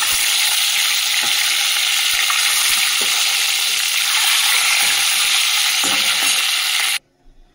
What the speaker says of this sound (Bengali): ডিমগুলো দিয়ে দিচ্ছি, ভেজে নিই ডিমগুলো